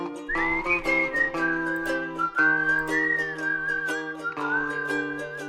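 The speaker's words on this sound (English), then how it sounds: "Try not to fucking whistle a long song." A person whistles a wavering melody alone, clear and close, with faint rhythmic taps beneath the sustained notes.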